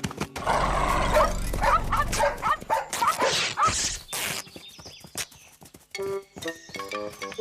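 Two fierce cartoon dogs bark in a rapid, frantic burst, mixed with clattering hoofbeat-like effects and scuffling noises, loud and busy at first before breaking into scattered short sounds.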